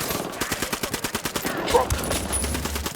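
Sustained automatic gunfire in the Ghost Recon Wildlands video game, a steady rhythmic stream of loud, close shots that blurs into heavier overlapping fire near the end.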